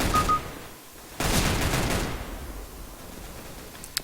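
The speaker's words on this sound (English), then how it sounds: "Come on, shoot him, shoot" Gunfire in the game CS:GO, bursts of rapid shots with a sustained volley in the middle, loud and close, fading to sparse reports with a single sharp crack near the end.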